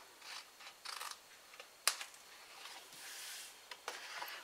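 Scissors cutting a paper piece for a table favour craft, several soft crisp snips and rustles in short bursts, with one sharp click midway, quiet and close, alone without talk.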